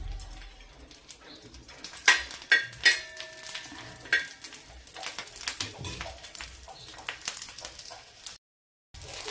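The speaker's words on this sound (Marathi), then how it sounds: "त्याच्यामध्ये आपण ज्या कट करून घेतल्या होत्या ते मिरच्या घालून घेऊया" Chopped green chillies fry in hot oil, a close crackling sizzle broken by sharp clinks and scrapes of a metal utensil against the pan, with a brief silence near the end.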